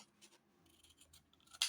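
Scissors cut through paper calendar pages in a few quiet, soft snips, ending in one sharp, louder snip close by.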